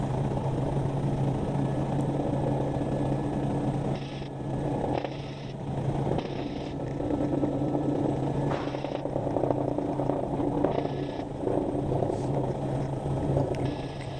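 A helicopter on a sightseeing flight around Honolulu makes a loud, steady rotor and engine drone from inside the cabin, with a constant low hum and periodic shifts in tone, no talking.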